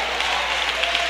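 A church congregation claps for Jesus during a Pentecostal service, a brief, dense burst of steady applause with no voices over it.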